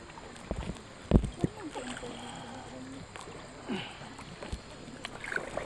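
Oars or paddles work a rowboat along a river on an outing in Norzagaray, Bulacan: occasional close splashes and knocks over a constant watery wash, with faint voices in the background.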